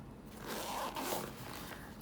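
The zipper on a carrying case for a Fluke 375 FC True RMS clamp meter is pulled open in one continuous close rasp that lasts about two seconds, with no talking over it.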